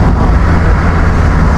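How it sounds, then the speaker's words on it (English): A 1990s BMW Z3 2.8 six-cylinder engine rumbles steadily and loudly up close, a deep continuous drone. "Oh, listen to the 6-cylinder rolling."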